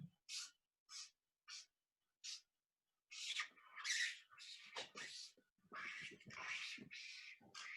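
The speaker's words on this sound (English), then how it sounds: "Marker's making an awful squeaking noise." A marker squeaks on paper while drawing flowers in an art workshop, giving five short, evenly spaced high squeaks and then longer, irregular squeaky strokes, close and fairly faint.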